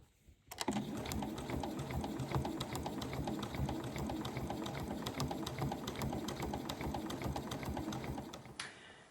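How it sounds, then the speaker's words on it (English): A sewing machine stitches in the ditch along a quilt seam to attach the binding, a fast, steady mechanical rattle that starts abruptly, runs close and loud for about eight seconds, then stops. "I'm then going to stitch in the ditch of that seam just in there all the way round to attach my binding."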